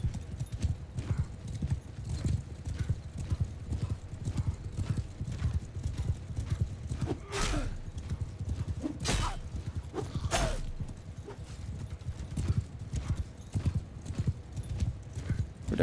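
Horses in a medieval battle in the Mount & Blade II Bannerlord video game, hooves clip-clopping in a rapid, continuous rhythm close by, with a few sharp whinnies and clashes cutting through.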